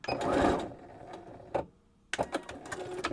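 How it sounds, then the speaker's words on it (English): A sewing machine stitching bias binding up to a folded edge and then backstitching, heard as a short whirring run, a brief pause, then a quicker burst of clattering stitches close by. "I'm just going to take the stitching right up to that folded edge. And I'm going to backstitch."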